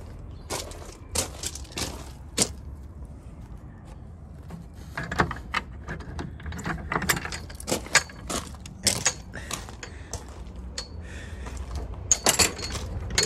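Keys jangle on a ring in repeated short metallic bursts, close and fairly loud, with small clinks and handling noises scattered through a quiet background.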